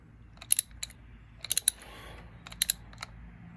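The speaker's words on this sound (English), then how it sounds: "The beautiful thing about socket wrenches is you don't need much space." A socket wrench ratchets in short bursts of sharp clicks while tightening the oil drain bolt on a sportbike. The clicks come close and fairly quiet, in three or four small clusters over a low background hum, with no voices.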